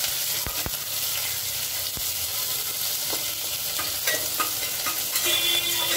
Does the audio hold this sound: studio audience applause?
no